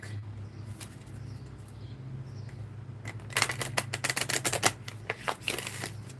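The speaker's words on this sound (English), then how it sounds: "Let me pull a card from the Lover's Oracle deck." Cards from a Lover's Oracle deck shuffled and pulled, a quick burst of crisp riffling flicks rising over a steady low hum, close and fairly loud.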